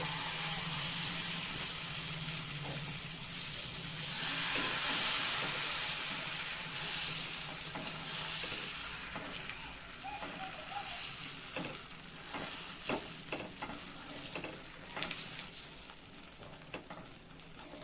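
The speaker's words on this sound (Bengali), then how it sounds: "ধোসা বানানোর জন্য ব্যাটারটা আমি তাওয়ায় দিয়ে দিচ্ছি।" Dosa batter poured onto a hot tawa gives a broad, steady hiss of sizzling that swells and then settles, followed by scattered light scrapes and taps as the batter is spread thin.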